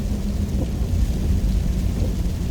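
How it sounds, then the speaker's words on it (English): Heavy rain pours down steadily with low, rumbling thunder rolling underneath, loud and constant throughout; no one speaks. "And it is pouring rain here today."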